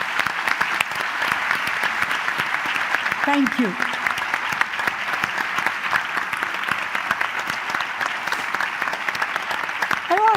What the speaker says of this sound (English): So, applause for Maré